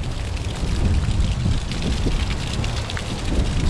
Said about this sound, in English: and there's the water flowing through